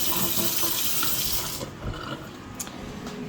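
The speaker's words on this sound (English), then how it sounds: "Really hot water, so let your hot water run." Hot water runs from a kitchen tap in a close, steady rush that quiets after a second and a half into softer trickling and splashing.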